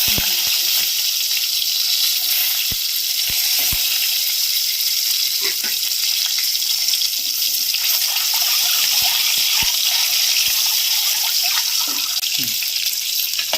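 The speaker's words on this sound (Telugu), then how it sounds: "ఇలా కొద్దిగా డీప్ ఫ్రై అయ్యాక ఇవి తీసుకోవాలి." Eggs deep-fry in hot oil with turmeric, a steady, close hiss and sizzle that runs without a break, with occasional soft clicks and taps of a utensil.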